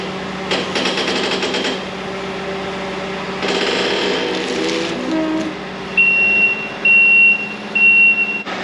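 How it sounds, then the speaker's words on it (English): Loud, high reversing buzzer on a machine, beeping in three steady pulses near the end over constant mechanical clatter and rumble, with no voices. "It's a very loud buzzer on a machine that makes no noise whatsoever."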